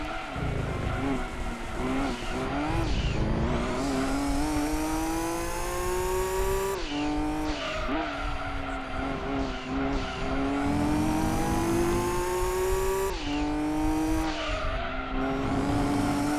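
A race car in Gran Turismo 2 at Laguna Seca runs through repeated gear changes, its engine note rising and dropping under braking, with tire squeal and skidding. It stays loud and continuous throughout, with no talk.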